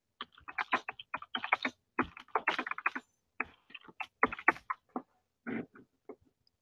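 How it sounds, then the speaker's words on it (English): Fingers type on a computer keyboard during a live stream, giving quiet, irregular bursts of clicking keystrokes with short pauses. "I'm going to type it in."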